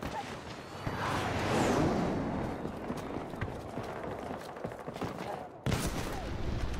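Battlefield 2042 gunfire crackling in rapid bursts and scattered single shots over a busy battlefield din, moderately distant, with occasional voices.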